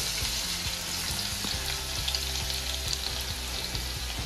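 Garlic and vegetables frying in a pan for homemade vegetable momos, giving a loud, continuous sizzle with a low steady hum beneath, close up and uninterrupted by voices.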